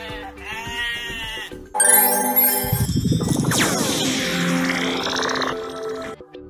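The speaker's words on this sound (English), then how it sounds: "Goat." Cartoon goat bleating in a children's animal-sounds cartoon, a loud wavering bleat over bright jingling music with no talk.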